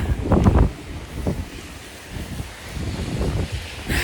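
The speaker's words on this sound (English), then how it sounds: "It's raining, it's windy" Wind buffets the microphone outdoors in the rain, coming as rough low gusts that are strongest at the start, with a soft background hiss underneath.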